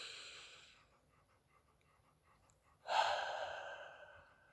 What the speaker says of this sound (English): we take a deep alerting breath in.